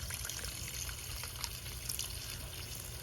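Water runs steadily from a tap while a filter container is rinsed out, a continuous close trickling splash with a low rushing undertone and no talking.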